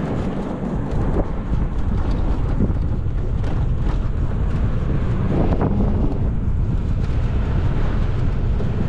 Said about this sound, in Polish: I znowu ten powiew wiatru.